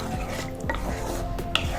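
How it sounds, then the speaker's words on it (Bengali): A bowl of water goes into a cooking pan of mushroom masala, giving short dripping and splashing sounds close by over a low background hum. "এর মধ্যে আমি এবার জল দিয়ে দেবো, 1 বাটি মতো জল দিয়ে দেবো।"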